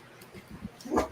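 A dog gives a short, close yip-like bark, brief and moderately loud, preceded by a few softer whimpering sounds.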